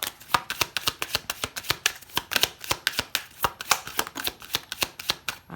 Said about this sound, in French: on va prendre quelques cartes du Lenormand